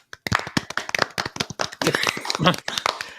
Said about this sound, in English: And now, everybody clap your hands.